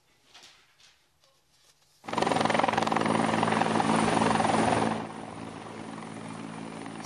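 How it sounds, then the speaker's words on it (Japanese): A medical helicopter's rotor roar starts abruptly and loudly after quiet, pounding steadily close overhead, then eases slightly as it lands on a junior high school sports ground in Suzu, Ishikawa, Japan, after the Noto Peninsula earthquake. "珠洲市の中学校のグラウンドに降り立つドクターヘリ"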